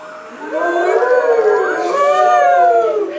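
Many voices together imitate a howling wind, a rising and falling whooshing wail from a crowd, loud and sustained for a few seconds.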